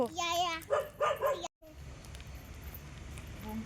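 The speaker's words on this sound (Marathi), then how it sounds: "हा कुत्रा एक भुंकाय लागलाय भा भा" A dog barking outdoors, a few close, loud barks in quick succession followed by a brief gap and quieter background ambience.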